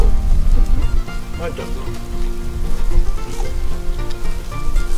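Rain patters steadily over an outdoor barbecue where meat is grilling, a dense, loud hiss of drops and sizzle that runs throughout, with a brief voice speaking over it.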